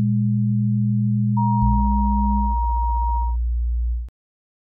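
Synthesized pure sine tones from a Csound generator instrument, several sustained notes overlapping with a higher tone entering midway, sounding smooth and sterile before cutting off abruptly into silence.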